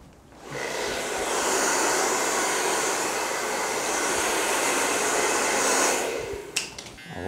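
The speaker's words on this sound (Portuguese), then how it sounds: "vou passar também o secador" A hair dryer starts up and blows with a steady, loud whoosh for several seconds during a child's haircut at a barber, then switches off, followed by a couple of faint clicks.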